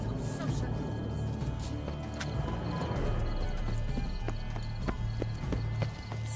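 Horse hooves clip-clopping at a steady trot on a road in The Witcher 3: Blood and Wine, rhythmic and fairly close, running under a voice and background game ambience.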